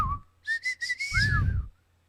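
A person whistles a short run of bright, airy notes, several quick pulses and then a longer sliding tone, close to the mic over a low background hum.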